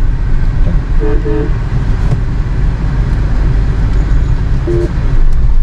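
Short car horn toots, two quick ones early and another later, over a loud steady hum of a moving Tata Nexon and road noise.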